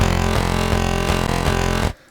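An Afterlife-style synth patch plays unfiltered, with a bright, buzzy sustained tone and rhythmic pulses repeating evenly, loud and upfront, then cutting off abruptly near the end.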